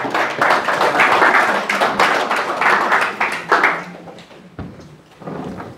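A church congregation claps and applauds loudly in dense, rhythmic bursts that fill the space, then the clapping thins and fades toward the end.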